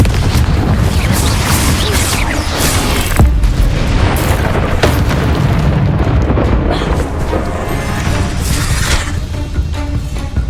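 Blasting Confringo spell explosions in Hogwarts Legacy boom loudly over a dense, roaring wash of combat noise, with a few sharp bursts standing out from the continuous din.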